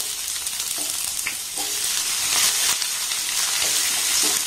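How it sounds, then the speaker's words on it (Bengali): Chopped onions sizzle in hot mustard oil and are stirred in a pan, a loud, close, continuous frying hiss with a few scraping stirs. "এবার এখানে যে পেঁয়াজগুলোকে কেটে নিয়েছি সেটাকে আগে দিয়ে দেব।"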